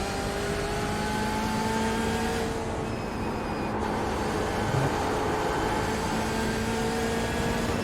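BMW M8 GTE race car at Watkins Glen in an IMSA racing game, its engine droning steadily with a sustained high whine, loud and continuous throughout with no talk over it.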